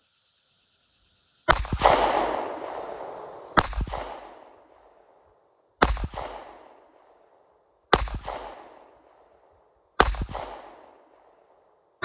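Five sharp pistol shots from a Fusion Firearms 1911 crack out at spaced intervals of about two seconds, each loud report followed by a brief decaying echo outdoors.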